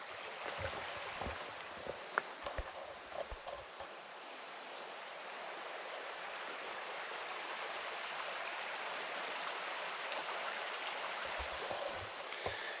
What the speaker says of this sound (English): Here's what the water looks like down here on the Big Piney Creek at Long Pool.